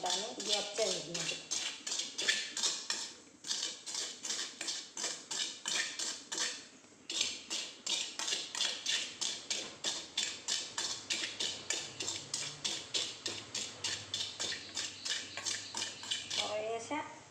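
Roasted dried shrimp being ground in a kitchen mixer grinder for a dried shrimp and mango curry, a loud steady rattling whir with rapid pulsing clatter running nearly throughout, with short pauses and a brief voice at the start.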